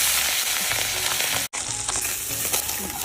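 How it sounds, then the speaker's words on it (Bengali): Katla fish pieces frying in hot oil give a dense, continuous close-up sizzle with crackling spatters, broken by one brief cut of silence midway, with no talking. "তেল গরম হয়ে গেছে, মাছটা দিয়ে দিই।"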